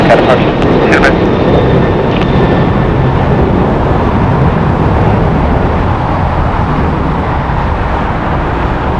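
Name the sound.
Boeing 737-8 airliner at LAX airport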